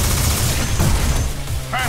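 Iron Man's Proton Cannon firing in the fighting game Marvel vs. Capcom: Infinite: a loud, sustained roaring energy blast with crackling impacts, ending in a brief rising electronic sweep.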